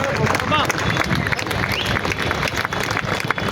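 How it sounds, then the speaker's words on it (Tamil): Audience applause at an all-India basketball tournament ceremony in Karur, dense and steady clapping throughout, fairly loud with a crowd murmur and some voices mixed in. "நீங்க எல்லாம் கைதட்டுங்க."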